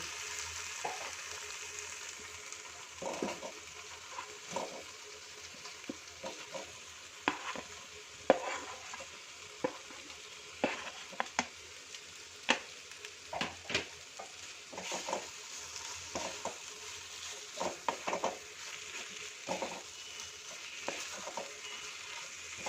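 Potatoes tossed into sizzling spiced masala in a pan, a soft steady fry broken by repeated scraping and stirring strokes, fairly faint and without talk.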